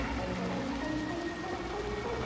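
Steady rain falling in the video game Little Nightmares II, a dense even hiss of drops that continues without a break, with no voices.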